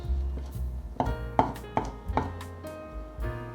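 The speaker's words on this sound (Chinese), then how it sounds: "把雪白菇切碎，再切更碎一点" A knife chops white beech mushrooms finely on a cutting board, a run of sharp, close, evenly spaced chops over soft background music.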